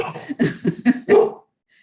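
Dogs give a quick burst of four or five short, close barks and yips in a tight rhythm, loud, then silence.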